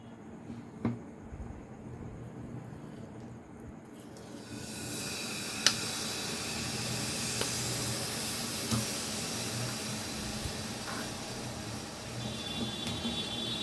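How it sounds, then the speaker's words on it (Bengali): Sugarcane jaggery goes into a hot pan for sesame laddoos: a soft background gives way to a steady, broad hiss that rises sharply partway through and holds, with a few faint ticks. "আমি এখানে আখের গুড় দিয়ে দিচ্ছি"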